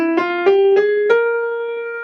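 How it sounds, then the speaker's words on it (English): A Lydian dominant scale played slowly on a melodic instrument during a jazz lesson: a short run of clear, sustained pitched notes, close and solo, with no talking. "And the Lydian dominant sounds like this."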